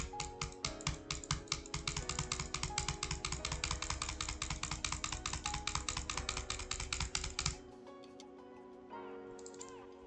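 Butterfly clicking on a computer mouse, a fast, even stream of sharp clicks near the microphone that runs for most of the stretch and then stops, leaving quieter scattered sounds.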